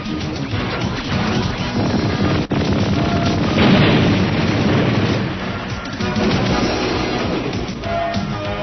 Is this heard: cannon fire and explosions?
yes